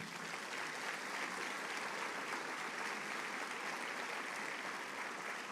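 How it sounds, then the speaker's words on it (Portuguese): Steady applause from a church congregation, dense and continuous throughout with no gaps, fairly distant and even in loudness. "Você pode dar um aplauso a Jesus por isso?"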